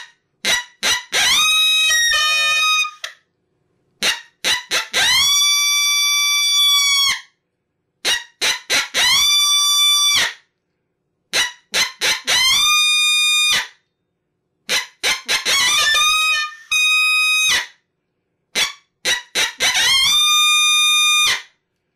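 Reed predator call blown as a coyote imitation in a repeating pattern of three short sharp barks followed by a long rising, wavering howl, loud and close, cycled about six times with pauses between.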